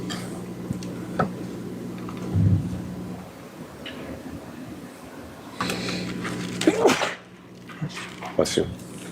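Someone sneezes once, sharply, during a murder trial in a courtroom, amid quiet background noise, with more clicks and shuffles following.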